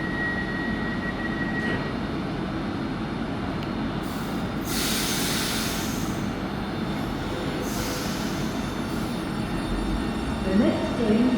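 A train arriving at platform 1 of Bolton station, heard as a steady, continuous rumble of wagons and wheels with bursts of brake hiss and a faint squeal, under a platform announcement voice.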